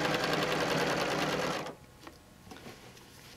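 Home sewing machine stitching in ruler-work quilting on a large block, a loud steady whirring run that stops abruptly partway through, leaving a few faint clicks and handling sounds.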